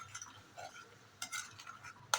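Onion paste is stirred and mixed in a pan, heard as faint, irregular scrapes and clinks of a utensil against metal over a low background, ending in a sharper tap.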